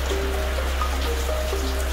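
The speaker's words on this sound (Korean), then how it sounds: "오, 빗소리." Steady rain falling outdoors during a wind and water test, with a continuous dense patter and hiss and faint scattered drips, loud and close throughout.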